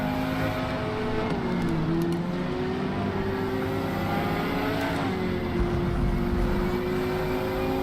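A Corvette race car engine in Forza Motorsport drones loudly and steadily at high revs, with pitch shifting through gear changes as the car runs close behind another.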